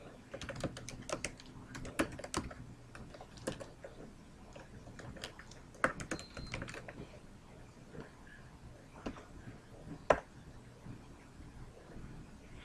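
Computer keyboard typing comes as a quiet, close run of irregular key clicks with small pauses and a few sharper taps, with no voice over it.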